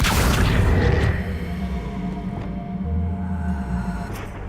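Accio spell cast in Hogwarts Legacy, a loud whooshing burst with a heavy boom at the start, then a fading magical hum and a softer swell of low energy afterward.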